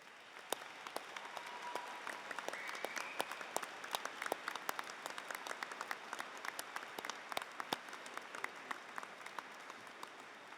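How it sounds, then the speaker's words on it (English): University graduation ceremony with graduates applauding the staff: scattered, fairly soft clapping from a seated crowd, individual claps distinct and steady throughout. "give our fantastic staff a round of applause"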